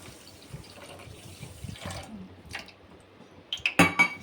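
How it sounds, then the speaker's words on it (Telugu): Water poured into sugar in a pan for syrup, a soft gurgling trickle with splashes that swells and fades, ending in a brighter burst of pouring and clinking near the end. "అందులోనే మనం వాటర్ వేసుకోవాలి."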